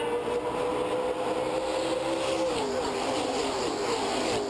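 A full field of race cars roars around the Milwaukee Mile oval, a loud sustained engine drone with pitch sweeps as cars pass, heard under commentary.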